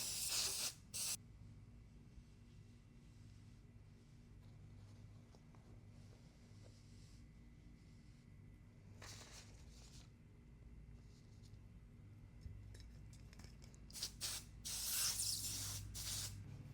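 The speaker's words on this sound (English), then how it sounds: "I'm also running out of adhesive spray" Short hissing bursts of adhesive spray from an aerosol can, a couple at the start and more toward the end, against a faint steady hum.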